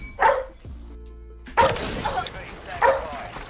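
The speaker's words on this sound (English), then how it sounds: "His dog's going crazy." A dog barks repeatedly over a voice chat during a Modern Warfare 3 online match, several sharp, loud barks spaced out with a yip, while a person talks in the background.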